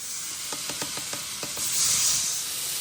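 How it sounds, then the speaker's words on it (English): Burgers sizzle on a flat-top griddle heated by propane underneath, a steady close hiss with faint scraping ticks and a brief swell of steam, no voices. "Hear that sizzle?"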